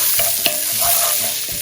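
Szechuan peppercorns and hot pepper sizzle in a hot pan with garlic and ginger, a loud steady frying hiss broken by a few sharp stirring scrapes, close and without talk.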